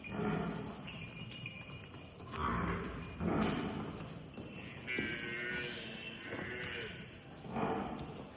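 Buffalo heifers at a dairy farm low and moo in several drawn-out calls spread across the stretch, mid-distance, with some barn noise in between.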